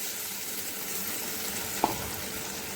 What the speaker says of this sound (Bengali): তো আমি এবার জলটা দিয়ে দিলাম।